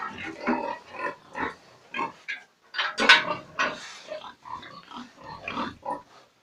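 Sows grunting and snuffling in short bursts close by on a village pig farm, with clattering and rustling around them, no talking.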